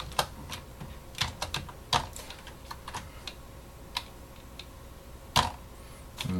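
Irregular bursts of keystrokes on a computer keyboard, close and fairly quiet, with scattered single taps and short clusters and no talking.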